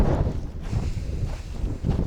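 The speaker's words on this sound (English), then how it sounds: "it's the beach, so it's gonna be windy" Wind blowing at a beach in Japan, a close, continuous buffeting rush across the microphone.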